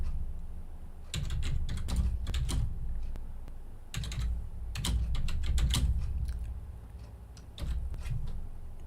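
Computer keyboard typing in quick bursts of close clicking keystrokes, separated by short pauses, over a faint background hum.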